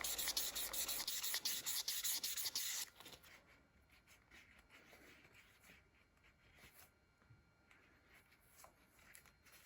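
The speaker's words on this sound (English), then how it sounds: "just keep sanding and rubbing until you're satisfied with the results." Sanding and rubbing the edges of a leather sheath, a close, steady scratchy friction that is loud for the first three seconds, then continues more quietly with intermittent strokes.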